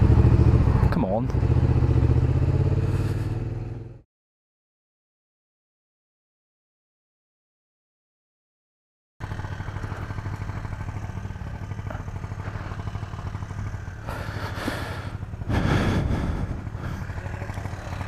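Suzuki SV650 motorcycle with a Leo Vince exhaust fitted with a db-killer, running loud at first, cutting to silence, then idling with a steady rumble and a brief rev, with people talking nearby.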